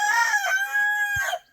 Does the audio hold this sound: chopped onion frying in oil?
no